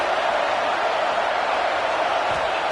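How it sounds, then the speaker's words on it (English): Dense stadium crowd roar in the College Football 26 video game, during an Ohio State Buckeyes versus Penn State matchup, a steady loud wash of cheering voices that holds at an even level throughout with no distinct breaks. "wow, listen to this crowd noise. This stadium is vibrating."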